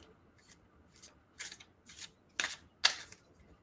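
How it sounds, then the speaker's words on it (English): Tarot cards are shuffled by hand in a quiet room, giving about seven short, crisp riffling bursts that grow louder and closer toward the end. "So I'm going to shuffle, and Rini, why don't you let me know when I"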